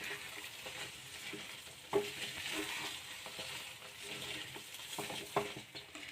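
Sweet potato mixture for mug puli pithe, with rice flour, being stirred slowly in a pan: a soft continuous sizzle and hiss with occasional light scrapes and taps of the spoon, close and steady, no voices.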